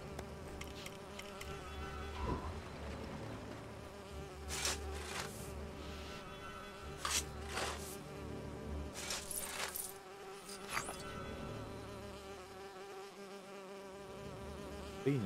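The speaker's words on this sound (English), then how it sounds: "A bee nest, a beehive." Bees buzzing from a beehive in the LEGO Lord of the Rings video game, a faint, steady insect drone running under other game sounds, with scattered clicks and brief sharp noises.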